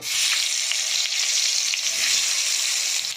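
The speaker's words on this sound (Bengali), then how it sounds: "বন্ধুরা, আমি এবার বেগুনগুলো ভেজে নেব" Eggplant pieces fry in hot oil with a steady, dense sizzle that runs continuously and fairly loud, with faint stirring or spatter ticks now and then and no voices.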